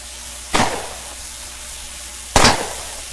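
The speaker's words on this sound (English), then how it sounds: "So he's gonna shoot at me now. Alright. I get to shoot back at him." Two sharp gunshots, about two seconds apart, each with a short decaying tail, ring out during a turn-based firefight in the game Underrail. They are fairly loud against a quiet background hum.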